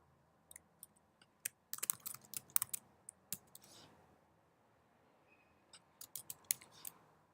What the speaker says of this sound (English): So I'm just typing in some keywords here, some interests.